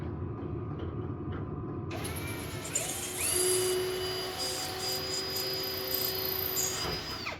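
Riveting a 5/32 rivet into the metal box of a fine gold highbanker, a close low mechanical rumble followed by a higher tool whir and ringing metallic tones as the rivet sets, no talking.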